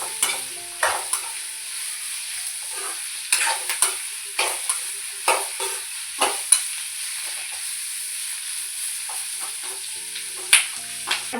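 Onions frying in a pan until transparent for a country chicken curry, with a constant bright sizzle and a steady run of spatula strokes scraping and clacking every second or so, close and clear with no talking.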